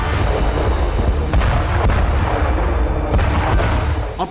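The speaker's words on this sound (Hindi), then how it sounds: "धमाके थम नहीं रहे, बारूदी बारिश रुक नहीं रही।" Loud, dense booming and rumbling of heavy blasts in the Armenia–Azerbaijan war, with repeated sharp thuds over a constant low roar, like artillery fire in a war zone.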